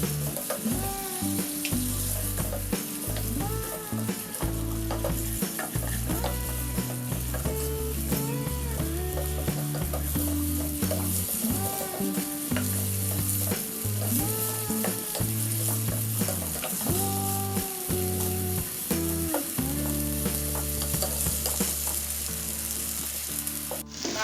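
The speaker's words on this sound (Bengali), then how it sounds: "এখন তেলে প্রথমে আমি আমার মাংসগুলোকে দিয়ে দিচ্ছি" Pieces of meat frying in hot oil for a mixed pasta dish, a continuous close sizzle with occasional stirring scrapes, running beneath steady tonal background music with no speech.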